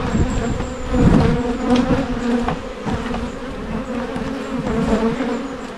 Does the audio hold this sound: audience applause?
no